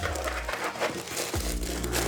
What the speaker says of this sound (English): So it's wrapped up in wrapping paper.